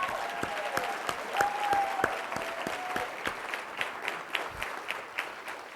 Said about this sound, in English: So let's give Lauren a round of applause.